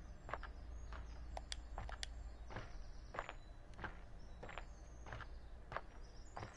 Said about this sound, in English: It sounds like I'm walking on boards.